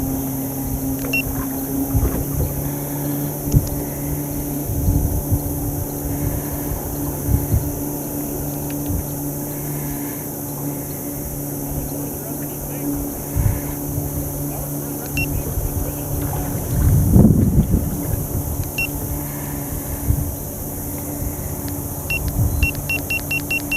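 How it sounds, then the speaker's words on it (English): A trolling motor pushes a fishing boat drifting downstream in the wind, giving a close, steady low hum with a faint whine. One brief rumbling swell comes near the middle. "the wind is kind of blowing me downstream, so I'm just kind of using the trolling motor"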